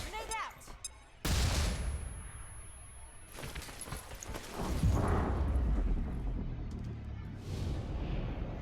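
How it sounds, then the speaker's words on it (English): A flash bomb grenade detonates in XCOM: Chimera Squad with a loud, sudden burst, then a rumbling, crackling tail and a second heavy blast, while a voice speaks faintly underneath. "Let's go flash bomb. Grenade out."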